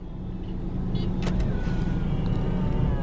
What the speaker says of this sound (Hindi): इन्होंने इस गाड़ी में रिट्रैक्टेबल पावर साइड मिरर्स दिए हैं